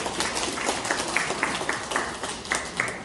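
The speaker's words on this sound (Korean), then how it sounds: "다시 한번 큰 박수 부탁드립니다." Audience applause at a motivational lecture event, moderately loud clapping from a crowd with a pulsing, slightly rhythmic texture and some distinct individual claps standing out near the listener.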